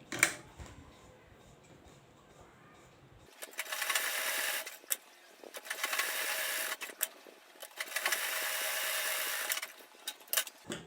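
A sewing machine stitches jumpsuit fabric in three steady runs of fast, even whirring, each lasting a couple of seconds, separated by brief pauses, after a quiet opening with faint handling.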